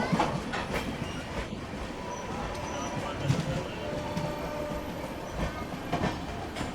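A Jan Shatabdi express rolls into Ghaziabad railway station with a continuous rumble of wheels and rattling carriages, broken by intermittent clacks over the rails, while voices murmur in the background.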